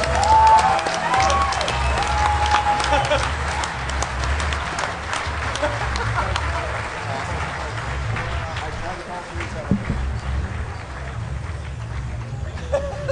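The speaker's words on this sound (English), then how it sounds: "You better clap for that man." A large hacking-conference audience at the DEF CON 17 closing ceremonies applauds and cheers in a loud, continuous wash of clapping and crowd noise, with voices mixed in.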